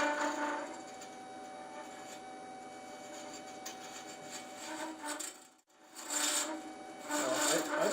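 A lathe tool, used as a spindle gouge, cuts spinning acrylic with a faint continuous rasping hiss over a steady motor hum. The cutting breaks off briefly near the end and then resumes slightly louder.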